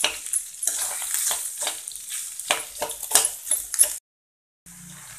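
Small fried mini vadas are crushed and tossed in a pan with a spatula, a close, continuous sizzle broken by repeated scraping strokes, then a sudden brief silence before a quieter stretch.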